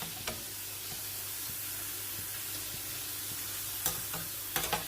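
Homemade potato wafers fry in hot oil over a fairly high flame, a dense continuous sizzle with occasional light clinks of a utensil stirring.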